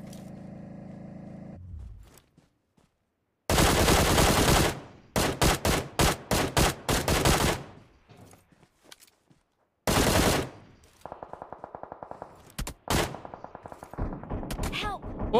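Bursts of gunfire in a mobile battle-royale squad fight, with a long sustained volley followed by rapid choppy shots and later clipped, stuttering fire, loud and close, with brief gaps of near silence between exchanges.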